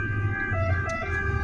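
Emergency vehicle siren, a steady piercing wail with strong tonal layers, loud and continuous over a low engine rumble, heard alone without talk.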